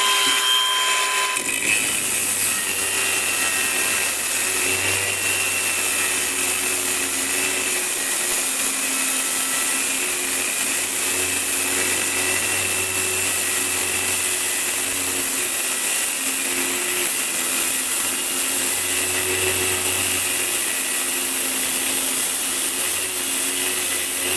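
Procraft AG125C cordless angle grinder pressed down into a 25 mm workpiece at third speed, a steady loud high-pitched whine with a low hum that dips and swells as pressure changes, running continuously with no talk.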